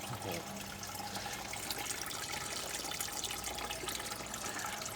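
Water poured into a hydroponic vegetable tank as fertilizer is added: a continuous, splashy pouring and trickling that runs steadily for several seconds, faint, with a little background noise.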